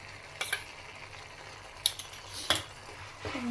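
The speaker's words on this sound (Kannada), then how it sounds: "1-2 ಮಿನಿಟ್ಸ್ ಹಿಂಗೆ ಫ್ರೈ ಮಾಡೋಣ" Tomato puree and curd stirred and frying in a pan for paneer butter masala, with soft scraping stirs and occasional sharp clinks of a spoon against the pan over a low background sizzle.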